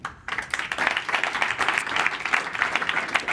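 Brisk clapping from an audience at an AI startup demo day, applauding the startups and jury, steady and moderately near after a brief quiet start.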